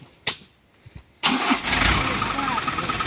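An offroad truck engine in rough terrain gives a few faint knocks, then roars to life and keeps revving loudly and closely through the rest.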